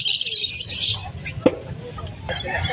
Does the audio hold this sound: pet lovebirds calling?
yes